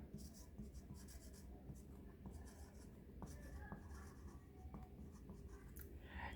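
Pen scratching on paper in quiet, soft continuous strokes with small taps, close and faint, with a low background hum and no talk.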